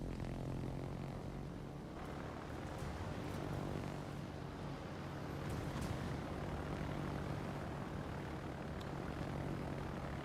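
Propeller fighter planes drone continuously in a combat video game, a dense, steady engine roar with faint passing whines and no voices.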